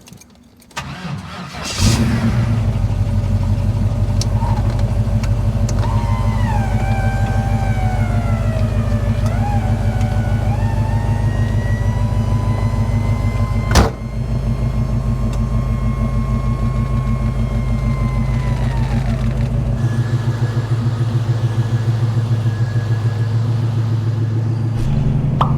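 A 1969 Chevrolet Camaro SS convertible with a shift kit starts up and settles into a loud, steady idle, close by, the engine rumbling continuously with a brief sharp knock midway and a slight change in tone near the end.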